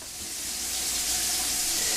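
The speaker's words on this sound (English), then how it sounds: "Just run your water, that's what you're hearing. I'm running water through here." Water runs from a bathroom sink tap into the drain, a steady close hiss that swells slightly louder after the first moments and then holds constant, with no voices.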